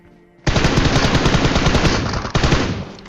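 Rapid automatic gunfire in a shooter video game, a loud sustained burst of closely spaced shots that begins abruptly and continues to the end with a brief break partway.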